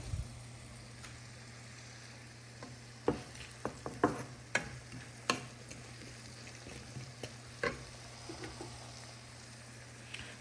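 Onions frying in a pan for a Bengali liver bhuna, a soft steady sizzle under sharp, irregular scrapes and knocks of a stirring utensil against the pan, with no talking.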